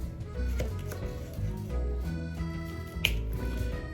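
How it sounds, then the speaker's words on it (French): A knife slices a cucumber in half in a home kitchen while cooking a cucumber pork stir fry, one crisp cut standing out near the end over steady background music. "On le coupe en deux."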